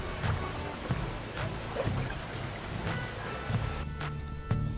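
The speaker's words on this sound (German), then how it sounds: "Oder am See." Lakeside nature ambience of water lapping and rippling, a steady soft wash with a few gentle splashes and knocks, with no voices.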